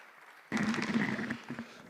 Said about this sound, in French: vous venez de recevoir des applaudissements fournis de tous les bancs de cette Assemblée nationale